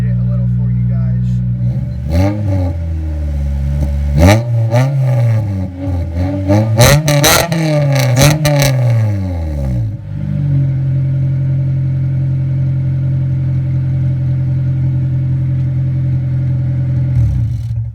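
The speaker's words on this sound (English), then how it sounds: "So now we're going to accelerate it a little for you guys." A car engine revs in neutral, climbing in several quick throttle blips that rise and fall in pitch before settling into a steady idle hum, loud and close, with a person speaking at times.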